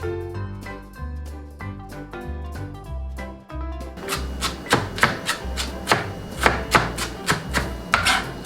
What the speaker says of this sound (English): just cut a small piece of that onion, and then we're going to chop it finely